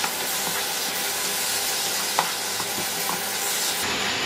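Grated raw papaya roasting in a pan for barfi: a continuous dense sizzle and hiss close up, with faint occasional scrapes from stirring.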